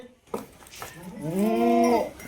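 A nearby Jersey-Friesian cow gives one long, drawn-out moo after a short knock, the call rising and holding loudly before cutting off.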